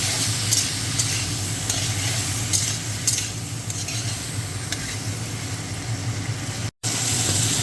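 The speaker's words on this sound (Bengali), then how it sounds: "এটাকে আমি হালকা ভেজে নেব।" An ingredient lightly frying in a pan before ridge gourd is added to a poppy-seed dish, a steady close sizzle with occasional stirring scrapes, continuous throughout with a brief dropout near the end, and no talking.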